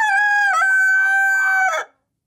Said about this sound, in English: So we have a rooster.